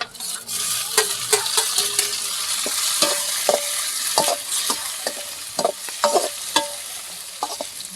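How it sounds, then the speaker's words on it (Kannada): Onions already browned with tomato just added sizzle in a pan while a utensil stirs and scrapes in irregular clinks and scuffs, close and steady, with no one talking, as part of a Kannada palak spinach recipe. "ಉಳ್ಳಾಗಡ್ಡೆ ಬೇಯಿಸಿ ಕೆಂಪಗಾಗ್ಯಾವ ಇವಾಗ ಟೊಮೆಟೊ ಹಣ್ಣು ಹಾಕ್ಕೊಂಬಿಡ್ತೀನಿ"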